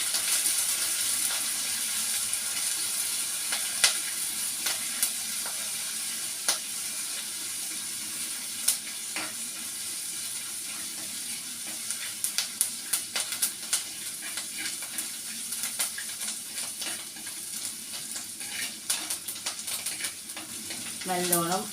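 Ginger, green chilli and curry leaves fry in a pan with a continuous soft sizzle and scattered crackles and pops, as a voice speaks now and then.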